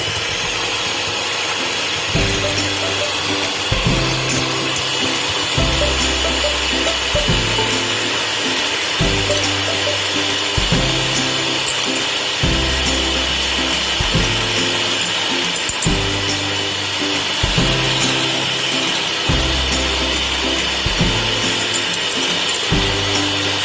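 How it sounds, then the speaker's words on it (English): An electric whisk beats egg whites until frothy: a loud, continuous motor buzz with a rattling, rhythmic chatter that pulses roughly every second or so as the beaters move through the bowl, with no talking. "whisk up the egg whites until they're frothy, but they shouldn't be stiff enough to form peaks. So I'm going to do that with my electric whisk"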